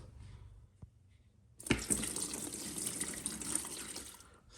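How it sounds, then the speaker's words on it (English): Water pours and splashes steadily into a portable folding mini washing machine tub, starting with a sudden gush and running continuously, close and fairly loud, with no talking. "Now I'm gonna pour water."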